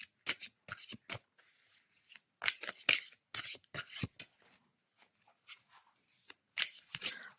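Oracle cards are shuffled by hand for a card draw, a series of close, crisp riffling bursts separated by short pauses, with no talking.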